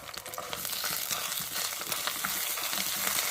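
Ginger paste fries in a pan for a tomato and amla pickle, giving a dense, steady sizzle with light stirring scrapes, close and continuous, with no talk.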